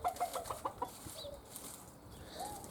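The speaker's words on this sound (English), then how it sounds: "this one was giving, like, warning sounds." Rooster and hen clucking in a run of sharp, repeated warning calls at close range, the bursts thinning into a few softer, scattered clucks over a faint outdoor background.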